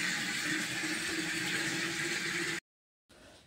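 Water gushes steadily from a household tap fed by a running motor pump, a loud continuous rush that cuts off abruptly and then resumes more faintly after a brief silence.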